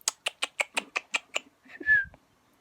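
A budgerigar gives a rapid run of about ten evenly spaced chirps, then a brief rising whistle, close and clear with no talking.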